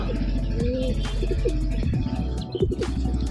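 Pigeons coo from a home loft, several low, throaty, repeated calls overlapping with soft chirps, close and fairly loud, with a faint murmur of voices in the background.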